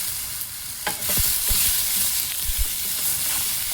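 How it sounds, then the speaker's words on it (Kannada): Onion and tomato fry in a pan over a medium flame with a steady hiss, while a spoon stirs and clacks a few times against the pan close by. "ಟೊಮೊಟೊ ಸ್ವಲ್ಪ ಸಾಫ್ಟ್ ಆಗಬೇಕು, ಅಲ್ಲಿ ತನಕ ನಾವು ಇದನ್ನು ಫ್ರೈ ಮಾಡ್ಕೋಬೇಕು"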